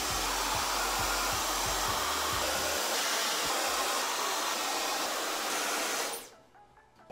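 A hair dryer with a diffuser blows on medium airflow while drying curly hair, a loud, close, continuous rushing roar that cuts off abruptly near the end, with no talking.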